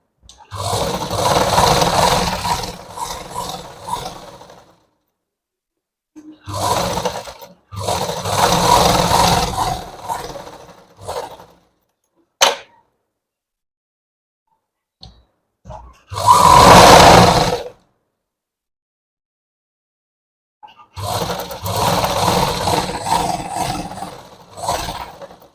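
Sewing machine stitching the lining of a blouse in bursts of a few seconds each, broken by silent pauses and short clicks, running close and fairly loud with no talk.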